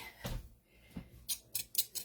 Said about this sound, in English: paper scissors and I will cut out my F pieces